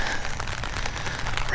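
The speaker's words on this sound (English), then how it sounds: "Gray and rainy." Steady rain falling on a gray, cold day, a continuous broadband patter with no pauses and no voices.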